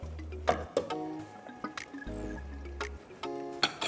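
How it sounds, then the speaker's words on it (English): Chicken stock boiling in a pot while cooking jollof rice, with irregular bubbling pops and glugging liquid sounds, some low and resonant, close and fairly quiet. "Right, and then leave it to boil more."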